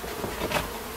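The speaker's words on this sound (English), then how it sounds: "the bees are really behaving well with this removal" Honeybees buzz as a dense, continuous drone while a wild hive is taken apart for removal. The swarm sound is close and steady, swelling slightly about halfway through, with no talking.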